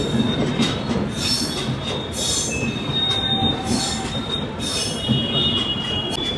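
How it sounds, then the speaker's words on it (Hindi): A passing train fills the air with loud metallic wheel squeals and rumbling rolling stock, heard up close and continuous, with the screeches rising and falling as the cars go by. "ट्रेन जा रही है पों पों पों।"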